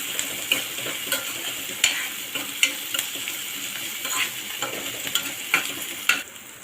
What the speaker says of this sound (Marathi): आता आपण हा कांदा आणि कढीपत्ता तेलावर चांगला फ्राय करून घेणार आहोत